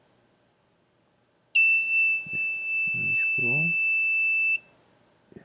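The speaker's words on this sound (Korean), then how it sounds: "지금 25도가 넘어가는 순간에 예. 이제 이렇게 식으로 지금 알람이 울리도록 제가 설정을 해놓은 거고요." An Arduino alarm buzzer triggered when the temperature passes 25 degrees gives a steady, loud electronic beep lasting about three seconds, then stops, while a person speaks briefly under it.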